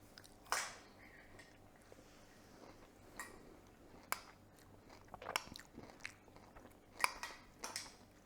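Crisp crunching bites of Morrisons wheat biscuit cereal recur every second or so, close and fairly quiet, with soft chewing in between and no talking.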